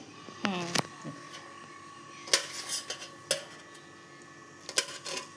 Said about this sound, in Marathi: अशाच आपण एक साईडून कट मारले सगळ्या मिरच्या